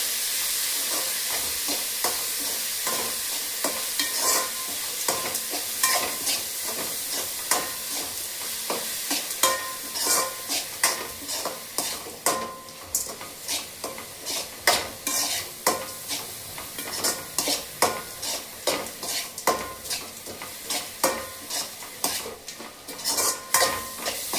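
Grated amla (gooseberry) sautéing in a pan, a steady sizzle broken by repeated rhythmic scrapes of a spoon stirring, close up and alone.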